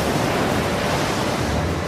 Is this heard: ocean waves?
yes